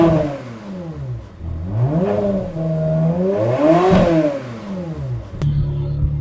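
A Ferrari 360 engine idles and then revs up and down in rising and falling sweeps, loud and close, before settling back to a steady idle.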